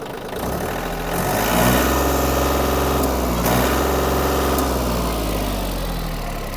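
A Yanmar F-200 20-horsepower mini tractor engine idles with a deep, throbbing mechanical rumble, then revs up to a louder, steadier drone before easing back slightly, heard up close with no talking.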